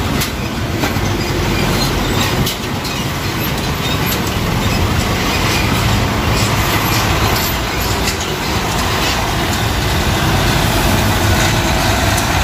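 A box truck passing on a busy road in Banten amid heavy traffic: a loud, continuous roar of engines and tires that fills the whole stretch without a distinct rise or fade.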